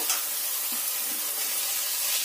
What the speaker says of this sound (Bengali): মশলার সঙ্গে থোড়টাকে ভালো করে কষাতে হবে